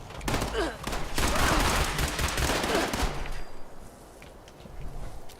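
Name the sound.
rapid-firing laser pistol in Fallout 76 video game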